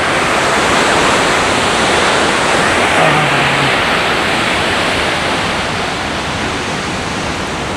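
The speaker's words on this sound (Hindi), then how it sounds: "द मोस्ट ब्यूटीफुल वाटरफॉल, छम वाटरफॉल।" Cham waterfall in Azad Kashmir, Pakistan, roars as a steady, loud, dense rush of falling water that stays constant throughout with no voices.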